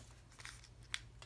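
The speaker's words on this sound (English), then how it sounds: "All I do is take my snips, cut around the edges of the dimensionals" Snips cutting around the edges of paper card dimensionals while making a birthday card: a few quiet paper snips with one sharper cut near the end, close and otherwise quiet.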